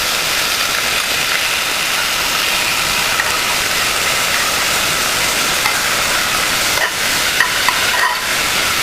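Crushed garlic sautés in hot oil in a pan for tomato rice, giving a loud, steady close-up sizzle with a few faint stirring clinks near the end and no talk.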